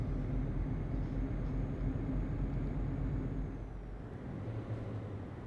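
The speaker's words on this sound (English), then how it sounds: "My truck is making weird noises." A truck in Euro Truck Simulator 2 drones along with a steady low engine rumble and road noise at moderate level, easing slightly toward the end.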